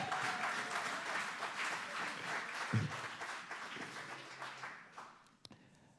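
A church congregation claps in praise, a thick wash of applause that holds steady before tapering off near the end, followed by a stray knock.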